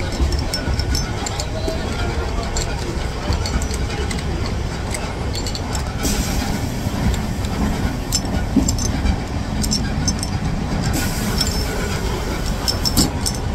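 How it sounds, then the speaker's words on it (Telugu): A moving passenger train between Renigunta and Pune, heard from inside the coach as a constant loud rumble and rattle with rhythmic wheel clatter and a faint babble of voices. "ప్రస్తుతానికి అయితే ట్రైన్ ఎక్కేసినాం, ఇక్కడ రేణిగుంట నుంచి ఎక్కేసినాం రేణిగుంటలో"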